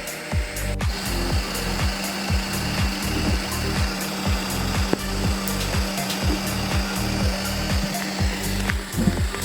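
An Ender 3 S1 3D printer starts up after preheating, its stepper motors giving regular low mechanical pulses and a soft whirring hum with faint fan noise, close and steady, with no talking.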